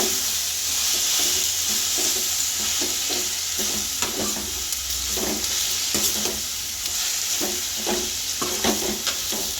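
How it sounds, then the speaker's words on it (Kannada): Onions frying with mint and coriander as the base for a Gowda-style mutton curry, giving a steady loud hiss with repeated stirring scrapes and clinks throughout, close by and with no talking. "ಅರ್ಧ ಹಿಡಿ ಆಗೋಷ್ಟು ಪುದೀನ ಕೊತ್ತಂಬರಿ ಹಾಕ್ಕೊಂಡು ಫ್ರೈ ಮಾಡ್ಕೋಬೇಕು."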